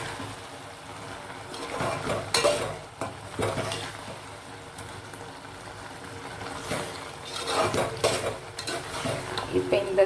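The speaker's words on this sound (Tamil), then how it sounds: "சர்க்கரை போட்டோம்ல, அது கரைஞ்சி நல்லா வெந்துக்கிட்டு இருக்கு." Dissolved sugar cooks for Kasi halwa while a spoon stirs the mixture around the pan. Close, continuous scraping and soft bubbling sizzle come in uneven bursts, with no talking.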